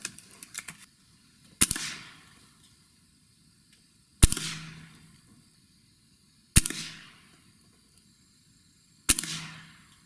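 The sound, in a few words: Gamo Gen3i air rifle shooting pellets at target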